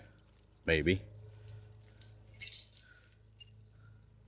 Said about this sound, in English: let me pull out the keys and kind of show you here real quick